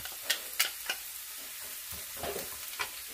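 Onion, garlic, pepper and cilantro frying in a pan for a Cuban fish dish, a soft steady sizzle with light stirring scrapes and clicks of a utensil, close and fairly quiet.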